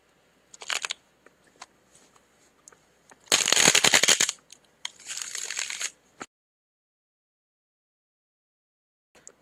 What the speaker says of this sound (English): I'm just kind of shuffling the cards, making sure that I have some clarity.